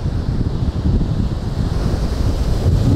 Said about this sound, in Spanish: Si viene ola así, se va a bañar seguramente.